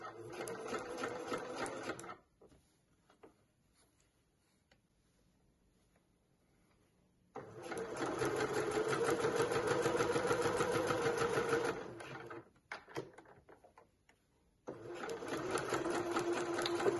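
Sewing machine stitching along a folded crease in fabric for a clutch bag, running in three steady motorized bursts separated by quiet pauses, close and clear with no talking.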